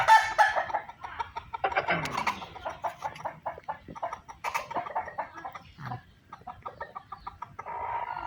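Cobra cross-breed gamecock roosters fight, giving close, repeated agitated clucks and squawks with flapping and scuffling, plus one brief crow-like call partway through.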